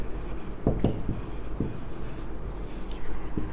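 A marker or chalk scratches across a board during a lesson, making a series of short, distinct taps and strokes over a steady low room hum.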